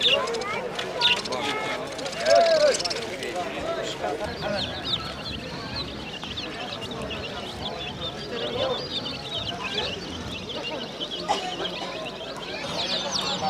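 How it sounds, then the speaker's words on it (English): Busy weekend bird market in Tashkent with chickens clucking among a dense crowd din; murmured voices and occasional bird calls blend into a steady, moderately loud background throughout. "This is the bird market in Tashkent"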